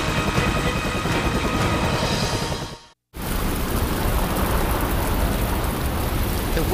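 Heavy March rain over the Ohio River Valley in the USA pours in a dense, steady roar that cuts out for a moment midway, then resumes just as strong.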